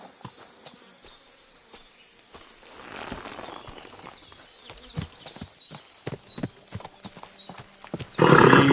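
Horse hooves clop irregularly in Kingdom Come: Deliverance 2 amid buzzing insects and outdoor ambience, with a louder burst like a neigh or snort at the close.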